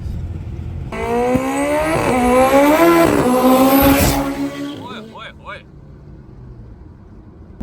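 A modified Suzuki FX roars through a fast night run, its engine climbing loudly through the revs as it passes close, then fading away with a few sharp pops; no one speaks.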